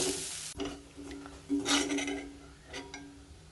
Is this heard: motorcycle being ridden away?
no